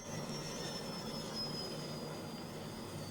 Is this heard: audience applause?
no